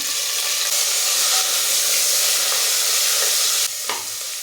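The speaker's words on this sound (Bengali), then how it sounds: "পেঁয়াজটা খুব ভালো করে ভেজে নেব।" Chopped onions fry in hot oil with cardamom, cloves, cinnamon sticks and bay leaves, giving a loud, steady, close-up hiss and crackle; a brief utensil knock near the end.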